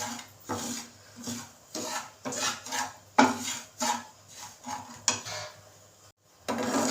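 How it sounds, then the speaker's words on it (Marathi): Semolina roasting in ghee in a pan is stirred with rhythmic scraping strokes, a close, gritty rasp repeating about every half second, with brief pauses and no talk. "तर त्यामध्येच मी आता हा रवा टाकते रवा आपण चांगला भाजून घेऊया"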